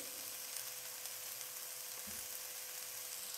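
Ginger garlic paste sizzling in a pan with softened onions for chicken handi, a steady dense frying hiss with a faint stir, no voices.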